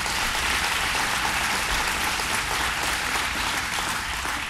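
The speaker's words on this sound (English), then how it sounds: "And to Danny Wegman, let's give him a round of applause." Sustained crowd applause at a Rochester data science funding announcement, a loud, even wash of many hands clapping that continues unbroken with no speech.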